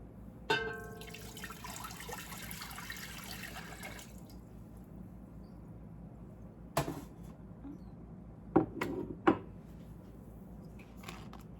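Water poured into a pot for lavender simple syrup, a rushing pour in the first few seconds that fades, followed by a few sharp clinks and knocks of kitchenware.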